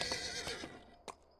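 A horse in Dungeons & Dragons Online gives a loud whinny that trails off, followed by a couple of short, sharp snorts near the end, close by with no talk over it.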